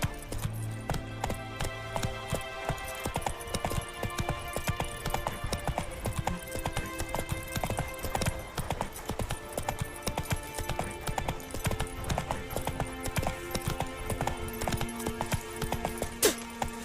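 Horse in The Witcher video game galloping, dense rhythmic hoofbeats clip-clopping continuously and fairly loud, with a brief whinny near the start.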